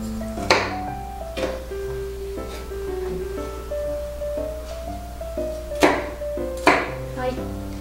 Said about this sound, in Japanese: ではセロリをカットしていきます